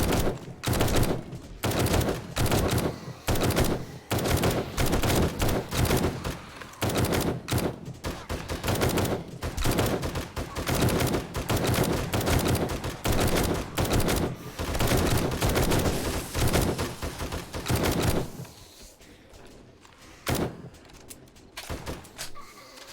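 Rapid, loud bursts of heavy gunfire from a big gun in the zombie survival game 7 Days to Die, sustained rattling volleys for most of the stretch before thinning into scattered quieter shots.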